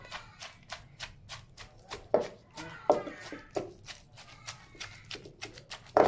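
A knife chops leeks on a board for a Thai pork dish, giving quick, evenly spaced sharp taps that come close and clear, with a few louder knocks.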